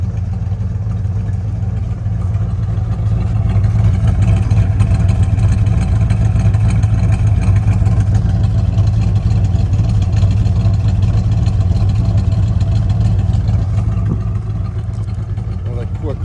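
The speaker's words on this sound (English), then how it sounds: "this is what an original 383 Magnum car sounds like" A 1968 Dodge Super Bee's 383 Magnum V8 with stock exhaust idles with a deep, steady rumble and a slight uneven lope, close and loud throughout.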